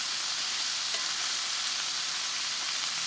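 Beef chunks for beef bourguignon sear in a pot with a steady, dense sizzle and frying crackle, fairly close and even throughout, with no voices.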